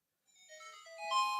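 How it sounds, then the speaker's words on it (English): A phone ringtone plays a bright electronic melody of rising tonal notes, starting thin and growing louder and fuller over about a second, alone without talk. "Sorry, that's my ringtone."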